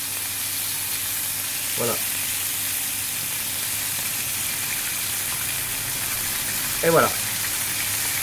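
Duck breast (magret de canard) sears in a pan with a constant close hiss of frying fat, while someone speaks a couple of brief words twice.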